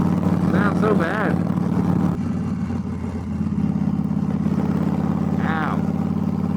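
A motorcycle engine running roughly and struggling on a road ride, a loud steady low drone with uneven pulsing throughout, while a rider talks over it at the start and near the end.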